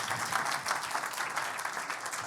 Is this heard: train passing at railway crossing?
no